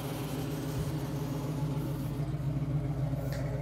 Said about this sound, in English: It's got a nice tone coming out of the rear exhaust.